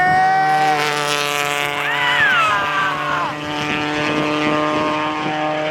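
Race cars on a circuit scream past with rising and falling engine pitch, one clear sweep of revs near the middle. The sound is loud and sustained throughout, with no talk over it.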